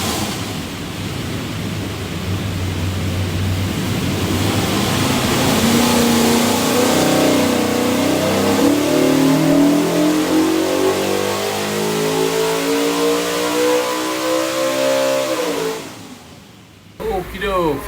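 A custom all-aluminum 347 V8 in a '67 Shelby Mustang revs on a dyno, its loud, continuous roar climbing steadily in pitch through a full pull before dropping off sharply near the end.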